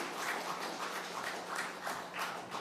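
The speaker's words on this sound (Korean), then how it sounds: "우리 전도자 우리 집사님께서 박수 해주시기 바랍니다" A church congregation claps for a deacon during a Sunday worship service, a steady dense patter of many hands at moderate distance, continuous through the short moment with no voices over it.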